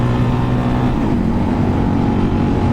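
A Suzuki DRZ400 supermoto engine revs hard during a wheelie as a loud, steady close-up drone, with its pitch shifting about a second in.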